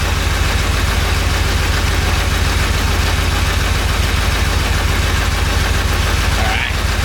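A Porsche 911 engine running steadily and loudly up close, with a low rhythmic throb and a brief dip near the end that fits bogging down; a voice talks faintly underneath.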